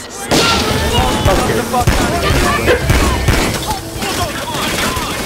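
Rapid gunfire in Payday 2 crackles in dense, continuous bursts for several seconds, loud and busy with explosive pops, while a voice speaks briefly over it.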